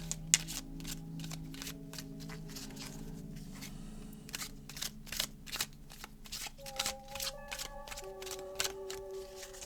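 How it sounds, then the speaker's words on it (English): Tarot cards are shuffled and drawn from a deck, a rapid series of crisp riffling snaps and slaps close by, with soft tones sounding quietly underneath. "I'm going to pull another card for you from another deck"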